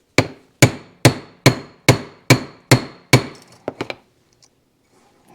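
A part is hammered onto a handmade axle for a Yamaha DT2 250MX motorcycle: eight evenly spaced, ringing metal blows, then a few lighter quick taps before it falls quiet.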